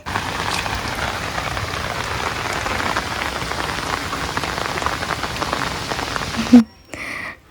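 Steady rain falling on surfaces outdoors, a close, even hiss of drops pattering continuously before breaking off abruptly near the end.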